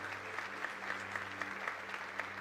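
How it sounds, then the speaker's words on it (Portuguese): A church congregation applauds during a sermon, a dense, sustained wash of clapping heard from a distance over a low steady hum. "Pode aplaudir a Ele."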